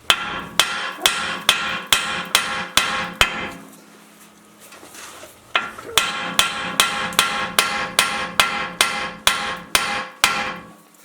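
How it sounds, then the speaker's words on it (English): A hammer strikes a Jeep YJ steering knuckle in hard, rhythmic metallic blows, a fast run of about eight hits, a short pause, then a dozen more, all loud and close. "get yourself a good old hammer, something like this, and you whack the knuckle"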